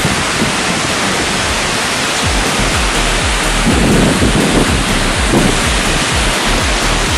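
Waterfall at Adams Canyon in Layton, Utah, tumbling over rocks as a steady, loud, close roar of rushing water that fills the whole scene without pause, with no voices.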